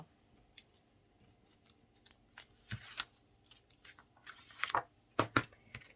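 Scissors snip through paper while an album is being assembled, giving a series of close, crisp cuts in irregular bursts, some louder than others, with no talking.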